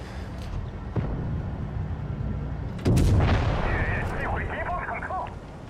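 Tank cannons fire in World of Tanks Blitz, with a sharp shot early on and a heavier booming blast midway that rumbles and fades, while someone talks over the action.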